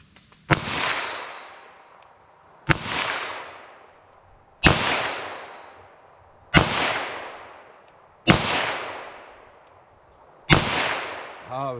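Six sharp .22 revolver shots fired with Winchester Super-X hypervelocity ammunition, spaced about two seconds apart, each a loud crack with a ringing decay, no talking.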